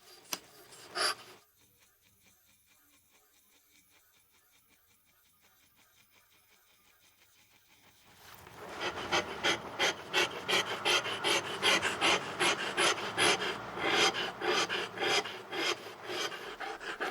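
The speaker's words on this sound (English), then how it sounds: "What he uses is a chisel specifically for inkstones, with hard metal embedded at the tip." Steel chisel tipped with hard metal carving a stone inkstone, a quiet tap at first, then a long run of close, rhythmic scraping strokes grinding against the stone.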